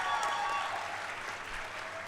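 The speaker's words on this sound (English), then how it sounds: "All of you may please applaud for the degree recipients of Master of Design degrees" Audience applause at a university convocation for Master of Design degree recipients, a steady dense wash of many hands clapping throughout, moderately loud and sustained without pause.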